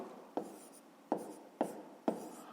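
A pen writes by hand on paper in four short, distinct strokes spaced about half a second apart. The scratches are close and quiet, and nobody speaks.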